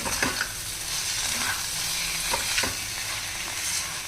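A spatula stirs a vegetarian ash gourd curry in a frying pan, with a steady close sizzle broken by a few sharp scraping knocks against the pan.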